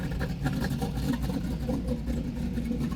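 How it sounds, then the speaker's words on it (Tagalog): A noisy car engine droning steadily from inside the vehicle, a dense continuous rumble and whir with no clear revs. "Ang ingay ng sasakyan mo"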